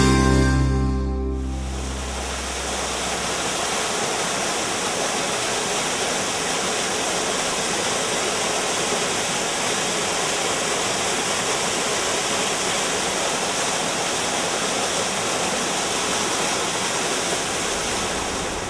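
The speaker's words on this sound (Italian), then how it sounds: "Il fiume Tusciano squarcia in due parti le montagne che lo circondano, scavandosi la strada nella roccia, generando delle piccole cascate" The small waterfalls of the Tusciano river, carved into rock between mountains, give a loud, steady rushing roar that runs unbroken after a brief fading musical opening.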